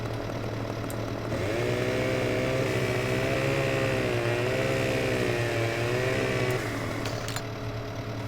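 In Farming Simulator 2015, a chainsaw cutting down a tree revs up into a steady, buzzing whine that wavers slightly for several seconds, then drops away.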